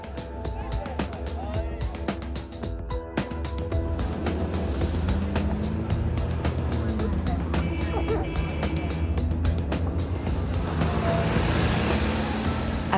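Car driving on a dirt track in Maniema province, Congo, its engine a steady rumbling drone with rattles and bumps, joined by a voice talking over it throughout.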